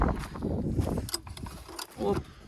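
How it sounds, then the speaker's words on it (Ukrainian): Someone yanks the recoil starter on a 10-hp diesel walk-behind tractor with a faulty reverse, giving a few ratcheting, rope-whirring pulls up close and no engine catch. "треба сильно тягнути, дуже сильно тягнути, щоб його завести дізеля"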